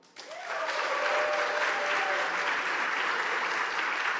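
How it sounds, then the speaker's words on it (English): An audience at a startup demo day breaks into loud, sustained applause that swells quickly and holds as a dense wash of clapping, with a brief voice at the start. "let's have a major clap for Nomu."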